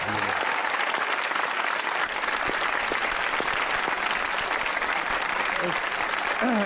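A studio audience on a Pakistani comedy talk show breaks into loud, sustained applause, dense clapping that holds steady for several seconds, close and full.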